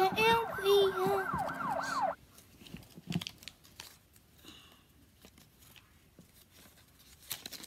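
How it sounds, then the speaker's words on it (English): Toy ambulance siren wailing loudly and close for about two seconds with a bright warbling tone, then cutting off, leaving only faint handling noises and quiet rustle. "Here's the ambulance."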